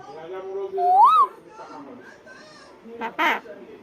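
A child imitates a koel's (cuckoo) call with a rising, curling whistled note, followed by softer vocal sounds and a brief breathy burst, close and clear.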